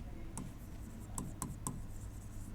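Marker or chalk writing on a board in a classroom, a few quick faint tapping strokes over a low steady room hum, with no voices.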